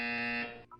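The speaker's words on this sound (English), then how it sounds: "You will hear a buzzer." A video game buzzer, a steady bright electronic tone held for about half a second before cutting off, followed by softer game sounds.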